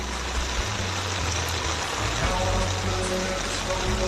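High, fast water rushes steadily through a stream at a construction site in Zambales, a dense, continuous wash close by, with a low engine drone underneath and no voices.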